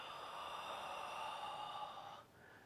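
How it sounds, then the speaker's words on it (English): A long, steady exhale during a qigong exercise, soft and breathy, holding for about two seconds before trailing off into quiet. "Breathing out."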